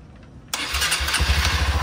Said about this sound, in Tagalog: So, ngayon papaandarin natin yung ano natin, CRF.